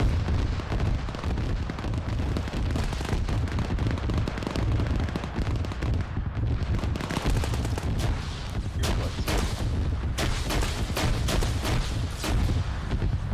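Sustained, dense barrage of gunfire and artillery-like booms during a military video game operation, continuous and loud throughout with overlapping shots and blasts.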